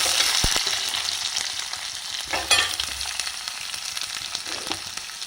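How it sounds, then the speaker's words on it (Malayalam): Chopped onion frying in a pan with ginger, garlic, green chilli and curry leaves for a chicken roast, a loud steady sizzle close up, broken by a few clinks and stirring scrapes, no voices. "ഇനി അതിലേക്ക് അരിഞ്ഞു വെച്ചിരിക്കുന്ന സവാള ചേർക്കാം"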